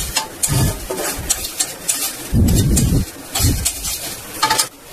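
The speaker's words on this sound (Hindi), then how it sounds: "इसको चलाना नहीं छोड़ना लगातार चलाते जाएंगे" Beaten rice (chura) fries in a kadhai while being stirred constantly, giving loud, rhythmic scraping sweeps of a spoon against the metal pan over a dry sizzle. The bursts come close together and up close.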